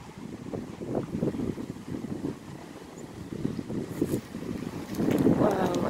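Strong wind gusting around a crabapple tree outdoors, a steady rumbling roar against the microphone that swells louder toward the end, with some faint background noise.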